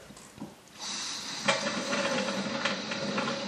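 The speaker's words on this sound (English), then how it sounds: "we'll start the wort chiller" A wort chiller starts up after the boil while brewing a Belgian caramel wit ale, giving a steady, close hiss like rushing water or steam that switches on abruptly and holds on without talk.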